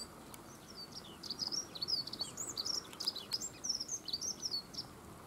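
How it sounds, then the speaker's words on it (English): A song thrush sings faint, repeated bright phrases against a soft, hissing background, starting after a brief quiet moment. "The song thrush in song."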